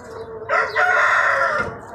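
A single Aseel rooster crows nearby, a loud drawn-out call lasting over a second against quiet surroundings; no one talks.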